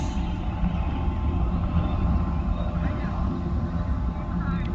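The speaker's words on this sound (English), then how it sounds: "there's the boat that you could hear" A steady low engine drone from a boat passing on the Salish Sea, constant throughout, with faint outdoor ambience and some background voice-like activity.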